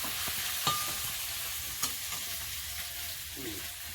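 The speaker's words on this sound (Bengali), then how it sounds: "এই যে চুনো মাছটা হালকা করে ভেজে নেব" Small chuno fish lightly frying in oil, a constant close sizzle with a few sharp spoon taps and stirring scrapes breaking through, steady and moderately loud.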